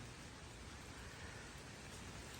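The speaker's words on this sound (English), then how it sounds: "it's raining out" Steady rain falls outdoors at night beneath a tree, a constant, even hiss of drops with no talking over it.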